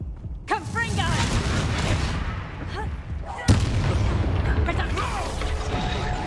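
Blasting Confringo spell explosions in the Hogwarts Legacy video game, with dense overlapping booms and crackling impacts throughout, a sharp loud blast near the middle, and game voices calling out over the din.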